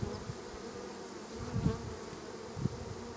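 Honeybees buzzing around nuc hives during an inspection, a steady close drone with a few louder swells as bees pass near, no voices.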